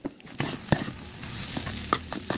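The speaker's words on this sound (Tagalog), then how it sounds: "Gisa-gisa lang." Ingredients sautéing in a pan for fried rice, a brief close sizzle punctuated by several sharp scraping and tapping spatula strokes.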